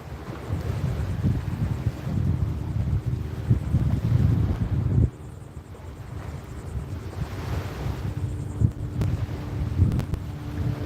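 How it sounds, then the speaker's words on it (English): A 20-foot center console motorboat passes on open saltwater off northeast Florida, its low engine drone rising and fading amid gusty wind buffeting and lapping water, with no talking. "That's like a center console 20-footer coming in."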